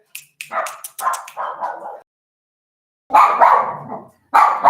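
Several dogs bark in loud, close bursts, a quick run of yaps and barks, a pause of about a second, then more barking that starts again near the end.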